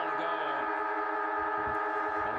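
A long, steady siren sounds for the three-quarter time break at an Australian rules football match between Nightcliff and Palmerston Magpies, droning continuously at a constant pitch over crowd noise and faint commentary.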